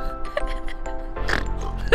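A person imitates a pig's oink while kissing, with short nasal grunting snorts close up, followed by a louder burst near the end.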